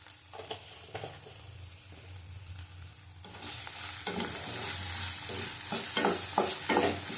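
Chopped tomato and salt fry in a pan while a utensil stirs and scrapes, the sizzle swelling louder midway with repeated scraping strokes, close and without talk.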